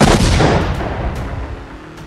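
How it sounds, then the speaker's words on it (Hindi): A bomb explosion in southern Lebanon sounds as one loud, deep blast whose heavy rumble slowly decays into a fading roar, with no talk. "दक्षिणी लेबनान में पहला धमाका"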